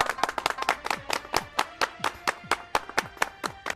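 An audience claps for a poet at a Pashto evening of satirical poetry, a steady run of sharp, close handclaps at a lively, fairly even pace with no voices over them.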